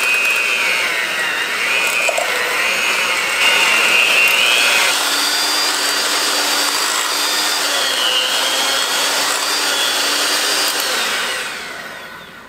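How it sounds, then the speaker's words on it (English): An electric mixer whirs through cream cheese with chives, a loud, steady motor whine with slight pitch shifts as the beaters work the mixture, then winds down near the end. "Now I'm going to get my mixer."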